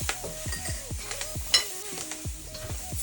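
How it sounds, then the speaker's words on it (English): A spoon scrapes and stirs through a pan of curry lobster with scotch bonnet pepper, quick rhythmic strokes knocking against the pot over a soft sizzle, close and fairly quiet. "stir it."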